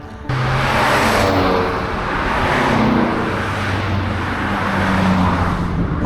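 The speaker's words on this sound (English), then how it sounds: "Whole bunch of sport cars." Several sports cars pass on a steep road climbing through redwoods on Empire Grade, a loud sustained engine roar with layered tones that starts abruptly and holds steady as the group goes by close.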